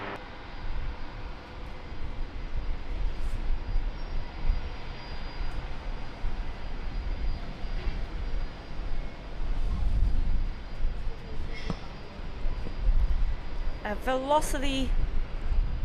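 Airliner departing Brisbane Airport, a steady distant jet engine roar building and swelling, with tower radio chatter heard over it.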